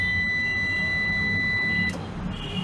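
A Microtek Legend 1000 UPS switched on sounds one steady, high-pitched electronic beep that holds for nearly two seconds and then cuts off, leaving a low hum.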